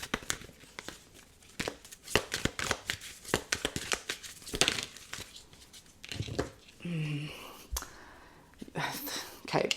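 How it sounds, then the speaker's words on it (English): A deck of tarot cards is shuffled by hand in repeated quick riffling bursts and soft slaps, close and crisp, with quiet whispered talk in between. "The only reason I shuffled again just then was because the second card came out sideways"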